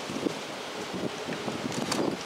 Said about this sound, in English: wind's blowing kind of heavy today